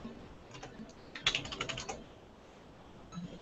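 Quiet keystrokes on a computer keyboard while entering a password during Linux user creation, a short burst of rapid clicks in the middle with a few scattered taps before and after.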